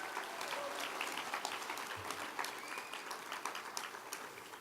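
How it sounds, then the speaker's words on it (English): Audience at a union leadership conference applauding health care workers, a dense, steady wash of clapping from many hands that holds at an even level throughout without a break. "I ask you to give them a round of applause"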